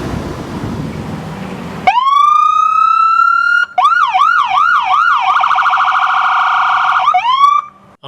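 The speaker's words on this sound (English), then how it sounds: "If you guys haven't heard the sound of an ambulance or what it looks like when we're coming lights and sirens" Ambulance siren running lights and sirens, first a long rising wail, then a fast repeating yelp, then a steady high tone, loud and close with no talking.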